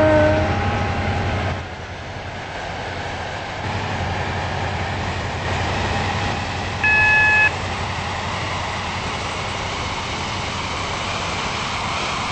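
Class 68 train running in the Stepford County Railway video game, a steady rumbling drone with a brief electronic beep partway through, no talking.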